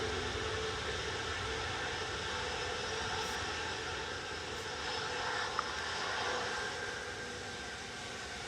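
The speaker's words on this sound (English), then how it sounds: "Next in will be Gulf Air. It's an 87-9 Dreamliner." A Gulf Air Boeing 787-9 Dreamliner arriving at Manchester Airport makes a faint, steady engine rumble and whoosh that swells slightly toward the end, with no talking.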